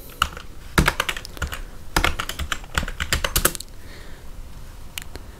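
A search typed on a computer keyboard: quick bursts of crisp key clicks in uneven runs with short pauses, close and clear, tapering to a few last taps, no talking.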